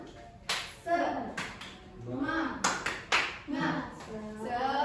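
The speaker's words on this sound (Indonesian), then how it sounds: "seperti biasa tepuk semangat" Group clapping chant led in a classroom during a dance lesson, with several sharp bursts of hand claps in rhythm mixed with voices shouting along, fairly near and moderately loud.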